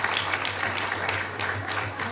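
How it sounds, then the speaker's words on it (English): A temple audience at a Maha Sivaratri program claps steadily in a dense, even wash of applause for the devotees, moderately loud with no speech on top. "Please give them a big round of applause as well"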